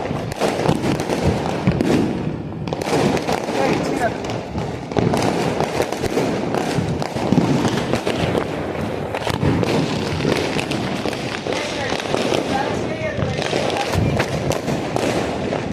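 A steady barrage of Diwali firecrackers popping and crackling nonstop at close range, punctuated by heavier bangs, with some voices buried underneath.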